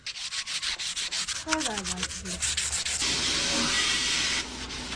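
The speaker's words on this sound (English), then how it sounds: "So I'm gonna hit it just with a little bit of sandpaper" Sandpaper rubs over a seasoned steel cooking griddle in quick repeated scratchy strokes, then a steadier continuous scrape, close and fairly loud.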